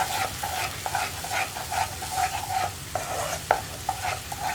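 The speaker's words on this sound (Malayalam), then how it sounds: "അപ്പോൾ ചവ്വരിയും കൂടി ഒന്ന് നെയ്യിൽ വഴറ്റിയെടുക്കാം." Sago pearls stirred in hot ghee for jackfruit milk payasam: steady close scraping strokes of a spoon in the pan with a light sizzle underneath, repeating every half second or so, no voices.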